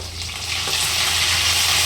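Garlic and curry leaves sizzle in hot oil with a loud, steady hiss that stays close and continuous from start to end, with no voices over it.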